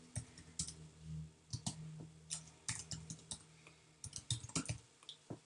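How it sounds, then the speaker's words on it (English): Quiet keyboard typing, irregular bursts of light key clicks in quick clusters with short pauses between them. "I suck at typing sometimes"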